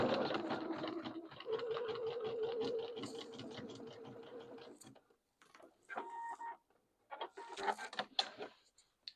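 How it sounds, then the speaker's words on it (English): A sewing machine zigzag-stitches across the elastic opening of a jeans waistband, a steady rapid needle chatter that runs for several seconds, then stops and restarts in short bursts, close and alone. "right where I have that opening where the elastic was threaded through, I'm going to begin zigzagging across that area"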